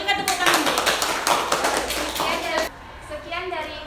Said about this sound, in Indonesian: Silahkan diberikan tepuk tangan.